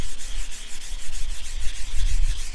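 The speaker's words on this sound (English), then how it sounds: "what I do now is I take a piece of 320 grit sandpaper" Sandpaper of 320 grit rubbed over a wet-finished wooden gunstock, a close, loud, steady back-and-forth scratching with regular strokes and no talk.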